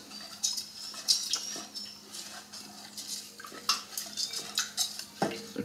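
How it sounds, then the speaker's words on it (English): Sugar stirred into water with a spoon in a pot or bowl while making lemon meringue pie filling, heard as light, quiet, repeated clinks and scraping with a soft watery swish. "1 cup of white sugar, which I'm going to stir around a little bit to dissolve it"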